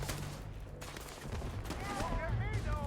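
Gunfire in the game Starfield crackles in quick repeated bursts under a low, busy background rumble, moderately loud and somewhat muffled.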